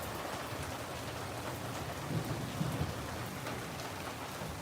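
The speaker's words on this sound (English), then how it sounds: "That's thunder." Thunder rumbles low beneath steady heavy rain drumming on a garage roof and gutters during a storm, a broad continuous wash with a deeper rolling swell midway, no voices.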